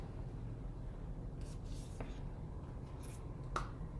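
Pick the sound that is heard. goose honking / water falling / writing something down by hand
writing something down by hand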